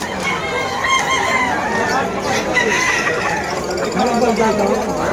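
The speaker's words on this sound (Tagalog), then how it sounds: "Maraming may dalang manok." Roosters and chickens at a Malabon pet market, with clucks and crowing calls rising through a busy crowd din of chatter and people talking throughout.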